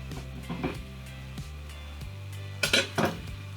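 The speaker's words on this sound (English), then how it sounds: "I have some butter here in my saucepan." A saucepan holding butter is handled on the stove, with metallic clinks and knocks of cookware and utensils, a louder clatter near the end, over a low steady hum.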